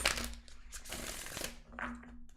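Tarot cards being shuffled by hand, a couple of quick riffling bursts with papery crackle, close and fairly loud, a low hum underneath.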